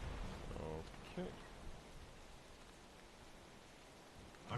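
Rain falls steadily in World of Warcraft: The War Within, a soft, constant hiss under brief muffled voice-like bursts near the start, fading into a quiet, even patter.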